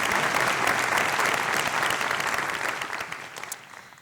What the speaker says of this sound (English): How about a round of applause for Lisette Marie Flannery?